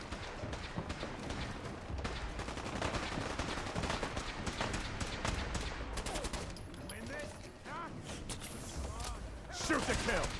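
Rapid bursts of gunfire in the Fallout 4 Sim Settlements 2 game, dense overlapping shots cracking out through most of the stretch amid loud battle noise, with a louder cluster near the end.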